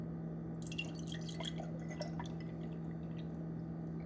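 Fermenting liquid poured into a clean glass jar, giving a soft trickling splash with small drips over a steady low hum, fairly quiet throughout.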